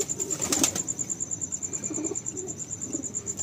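Pigeon with its wings and chest freshly coloured, moving with soft flapping and faint low cooing close by, with a steady high insect-like whine in the background throughout.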